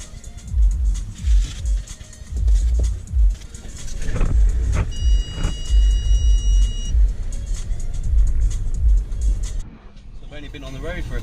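A car moves through road traffic with a steady engine and road rumble, swelling and easing as it goes, under frequent nearby talk.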